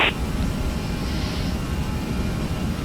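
Airliner engines spooling at takeoff in Flight Simulator X, a loud steady broadband roar with low rumble, continuous and close, with a brief whine at the start.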